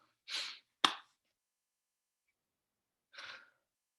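Three short, sharp bursts of breath stand out against near silence, one abrupt explosive snap between two softer hissy puffs, close and quiet, like a sneeze and stifled exhales.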